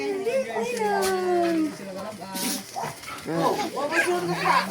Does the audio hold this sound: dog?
yes